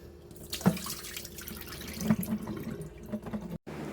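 Dirty water is poured out into a sink after cleaning a mess, giving a soft, continuous splashing and trickling with a few small drips, fairly faint and close, with no talking.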